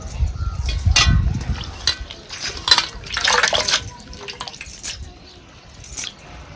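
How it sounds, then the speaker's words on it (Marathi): Water draining off freshly washed hadga flowers, irregular drips and splashes with short louder trickling bursts, fairly close. "आता हे पाणी आपण सगळं निथळून घ्यायचं"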